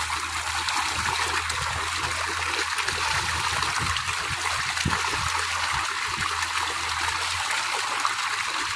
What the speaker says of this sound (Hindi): ट्यूबवेल के पानी में मजा ही कुछ हो रहा है।